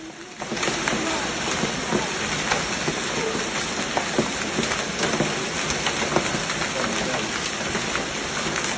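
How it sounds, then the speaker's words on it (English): A powerful summer hailstorm strikes Naples, with large hailstones hammering down on the city in a dense, steady roar that holds at the same loudness throughout, broken by scattered sharper impacts. "a powerful hailstorm suddenly struck Naples"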